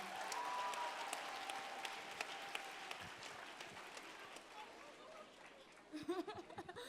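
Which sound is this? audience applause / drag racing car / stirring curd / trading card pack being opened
audience applause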